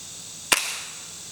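A single sharp crack from a Beeman Silver Kodiak air rifle firing on a range, brief and close against quiet background, followed by a short fading tail.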